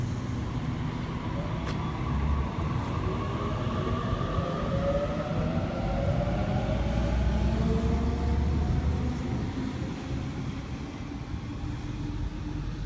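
A Sydney Trains Waratah electric train rumbles steadily at a station, close by, with a low continuous roar and faint rising motor whine running throughout.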